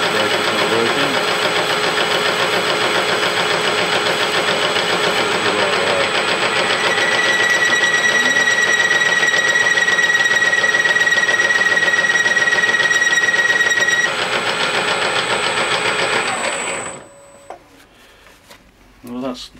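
A metal lathe takes a 20 thou cut on steel, giving a steady, loud mechanical drone with a thin high whine that runs for about seventeen seconds before the machine winds down to near silence.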